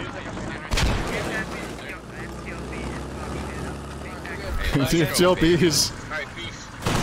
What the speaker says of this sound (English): Uh-oh, with frags coming in.